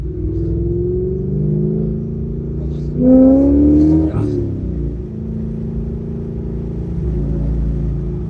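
A 25-year-old car engine fitted with a Vararam VR-B2 intake idles with a steady low hum, then revs sharply once for about a second before settling back to idle, close to the microphone.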